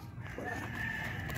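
Chickens kept around a rural yard, giving a brief burst of clucking and crowing-like calls that carry steadily over a dense, noisy background across the short span.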